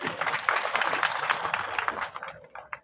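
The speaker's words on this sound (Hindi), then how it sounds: "तो एक बार तालियां बजाएं भाई" Workers at a public hearing on labour issues in Bhim, Rajsamand break into a short burst of dense crowd applause that stays strong, then thins and fades near the end.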